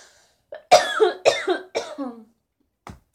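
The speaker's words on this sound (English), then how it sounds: "My cough just sent it right out of me." Several sharp coughs in quick succession, close and fairly loud, followed after a pause by one more short cough.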